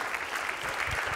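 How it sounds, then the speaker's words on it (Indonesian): Brief burst of audience applause at a concert talk show, a dense, moderately loud patter of many hands clapping with no voices on top. "Tepuk tangan semuanya, tepuk tangan everybody."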